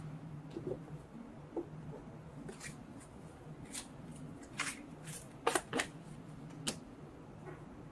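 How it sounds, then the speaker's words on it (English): Tarot cards shuffled and drawn by hand, giving soft papery riffles and flicks in short bursts over a quiet room, with a few sharper snaps of cards near the end. "I'm just going to pull cards and see what comes up"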